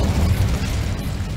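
The Incendio fire spell from Hogwarts Legacy, a brief, steady roaring whoosh of flame with a heavy low rumble, close and loud throughout, with no voices.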